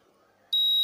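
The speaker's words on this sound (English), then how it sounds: "If the reading goes above 7, then it will starts the beep." A steady, piercing electronic beep from a Delmhorst P-2000 moisture meter starts halfway through and holds continuously to the end, loud and close, after a stretch of low background murmur.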